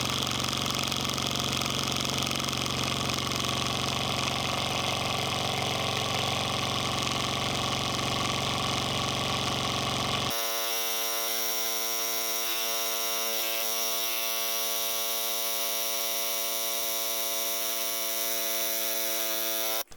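Motorized airbrush paint shaker rattling a bottle of paint held in its straps: a continuous loud electric buzzing hum that shifts to a smoother, more tonal drone halfway through, then cuts off at the end.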